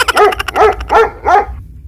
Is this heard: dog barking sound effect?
yes